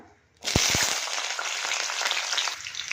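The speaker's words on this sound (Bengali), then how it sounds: "তেলটা গরম হয়ে গেছে একটা বড় সাইজের পেঁয়াজ দিয়ে দিলাম" A large onion hits hot oil with a sudden loud sizzle that settles into steady, close frying crackle, with a few pan clanks at the start.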